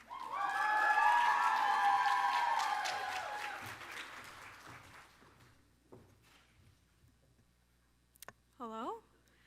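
Applause for a graduate at a Lavender Graduation ceremony, a broad wash of clapping with some cheering that swells early and fades over about six seconds, followed by quieter room sounds and a brief voice.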